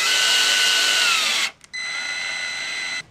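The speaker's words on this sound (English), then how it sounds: "So I've drilled and I'm tapping these holes." A power drill drives a tap, cutting threads for machine screws into holes in a wooden bracket; a loud, steady whine runs about a second and a half, stops briefly, then resumes at a slightly lower, even pitch.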